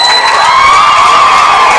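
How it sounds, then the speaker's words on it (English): A large crowd at a sports game cheers and whoops approvingly, a loud, dense roar that holds steady without letting up and carries no clear speech. "Crowd approving."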